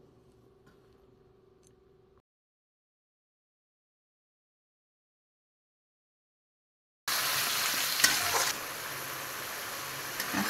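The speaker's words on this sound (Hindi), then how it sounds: "अभी हम अदरक लहसुन जीरा की पेस्ट को डाल देंगे।" Ginger, garlic and cumin paste for chicken curry hits a hot pan and is stirred. Faint clinks and a long quiet pause give way to a loud, steady sizzling hiss with scraping.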